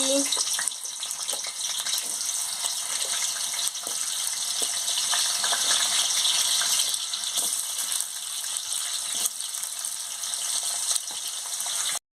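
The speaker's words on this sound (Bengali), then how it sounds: "একটু নুন দিয়ে আলুটাকে ভালো করে ভেজে নিচ্ছি" Potatoes frying in hot oil in a wok, a loud, steady hiss and sizzle that carries on without pause, broken by small pops and crackles.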